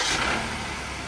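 A 2011 Ford Explorer engine held at about 2,000 RPM, a steady, loud broadband roar with no dips or swells, close by and with no voices.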